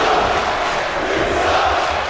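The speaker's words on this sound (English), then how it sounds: "Crowd here in Alabama cheering for the Canadians over the French women." A wrestling crowd in Alabama cheers loudly and steadily at a women's match, a dense roar of many voices filling the arena without pause.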